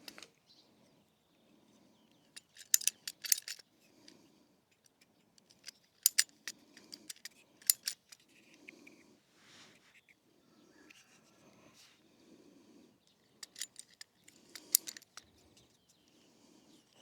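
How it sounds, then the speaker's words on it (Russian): Plastic drip irrigation tubing being cut with a tool, a series of sharp, faint snips and clicks arriving in irregular bursts with quiet gaps between them, close by in a still setting. "И эту сторону обрезаю"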